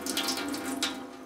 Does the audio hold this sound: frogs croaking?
no